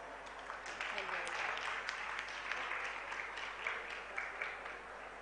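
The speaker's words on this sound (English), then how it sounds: "Let's motivate her with a round of applause." Applause from a seminar audience for a physiotherapy speaker taking the platform: steady, fairly faint clapping from many hands that continues evenly throughout with no voices on top.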